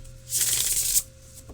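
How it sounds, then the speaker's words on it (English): A quick riffle of a stiff Edmund Dulac tarot deck, a dense crisp burst lasting under a second, close and alone. "Let's give it a shuffle."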